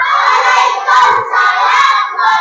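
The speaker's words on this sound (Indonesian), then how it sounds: "Tepuk tangan untuk kalian semua." Loud, dense clapping and cheering from a crowd, steady for a couple of seconds with brief dips.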